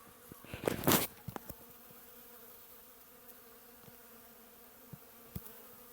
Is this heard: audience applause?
no